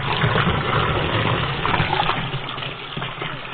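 Water gushes steadily and loudly from a hand-drilled borehole, a dense, continuous rushing flow with no voices.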